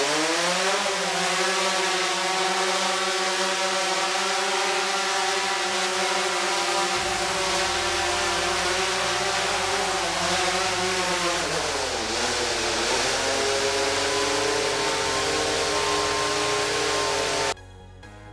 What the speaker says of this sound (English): you can see the motors have been activated